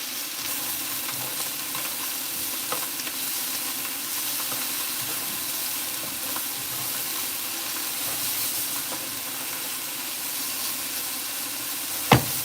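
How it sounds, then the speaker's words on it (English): Onions cooking low and slow in a pan, caramelizing, with a steady soft sizzle and hiss for the whole stretch and a brief clatter as they are tossed near the end. "moving back over to these onions that are cooking low and slow. I'm just giving them a nice toss around"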